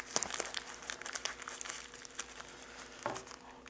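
Material crumpled by hand into a ball and taped shut for a meteor diorama school project, soft close crinkling in quick irregular bursts, faint overall, with a small thump near the end.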